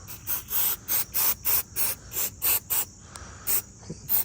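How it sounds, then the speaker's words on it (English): Aerosol mass airflow sensor cleaner sprays in a rapid series of short hissing bursts, about a dozen, close up, with brief pauses between them. "I'm just gonna spray this mass airflow in here and activate it, spray it, activate it"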